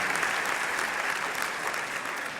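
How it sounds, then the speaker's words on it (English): Steady, dense applause from a large audience at a college convocation ceremony, hands clapping continuously for a group of Home Renovation Technician graduates. "a round of applause for the graduates from the Home Renovation Technician program"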